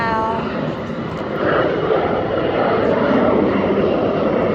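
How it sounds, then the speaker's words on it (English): A plane climbing steeply off the runway at Springfield-Branson National Airport into a strong headwind, its engine roar broad, loud and steady throughout, swelling slightly near the end. "That's a steep takeoff."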